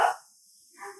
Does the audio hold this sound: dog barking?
yes